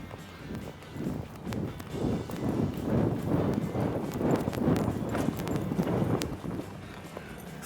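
Hooves of a mare clip-clop at a lope around a show pen, a steady rhythmic drumming of muffled footfalls on soft ground, fairly close and continuous with a light wind-like background.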